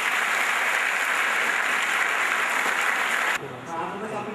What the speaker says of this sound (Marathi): या 5 जणांसाठी टाळ्या.